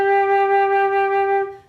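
A wind instrument plays a single sustained note with steady harmonics and slight separations between tongued notes, a short phrase of three notes that fades at the end; played alone, no talking.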